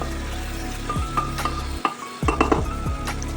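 Salted onions fry in a pan with a steady sizzle while a spoon stirs them, scraping and clinking against the metal in quick, repeated strokes.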